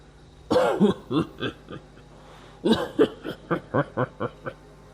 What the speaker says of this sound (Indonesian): tiba-tiba terdengar suara orang batuk yang lumayan menggelegar